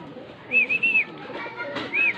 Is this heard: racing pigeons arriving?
yes